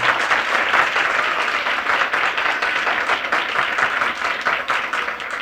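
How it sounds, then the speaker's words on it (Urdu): A church congregation at a Sunday service claps loudly and continuously for several seconds, a dense, steady wash of applause with no pauses. "تو خدا کے جلال کے لیے زوردار تالیاں بجائیں گے"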